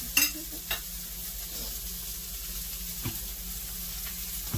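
Butter melts in a hot skillet with a steady, close sizzle and hiss, broken by a couple of brief utensil clinks near the start and a soft knock later on.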